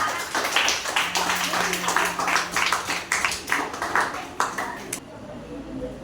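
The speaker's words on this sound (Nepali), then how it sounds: "ल यिनीहरूको लागि पनि ताली बजाइदियो।" Students applaud in a classroom after a project presentation, a dense burst of quick claps lasting about five seconds before stopping abruptly, with voices mixed in.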